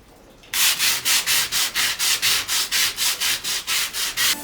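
Hand sanding on a sailboat under repair: after a short quiet start, a rapid regular series of close, loud back-and-forth abrasive strokes, about four per second, with no voices.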